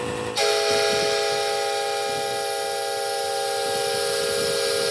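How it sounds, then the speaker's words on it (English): A small air-powered train whistle fitted to a trackless train blows one steady, loud, hissing tone that starts sharply and holds for several seconds, running on an air compressor at low pressure, with no talk over it. "You might need a bigger whistle."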